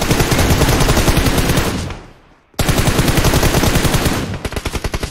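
Rapid automatic gunfire in the video game PUBG Mobile, loud and close, a dense stream of shots that stops for about half a second, resumes just as fast, then thins into separate spaced bursts.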